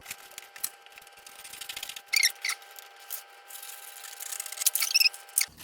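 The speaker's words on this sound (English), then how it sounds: "Okay, so I will have to cut it like this." Backdrop material being cut makes quiet, close, crisp snipping and rasping bursts that come irregularly, with no talk.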